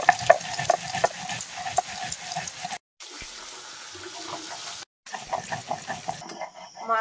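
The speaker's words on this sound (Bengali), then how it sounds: "বাকি মাছগুলো ভেজে নেব" Pieces of freshly caught fish, likely catla, fry in oil and get turned, giving a close crackling sizzle with stirring clatter, cut by two brief silent gaps.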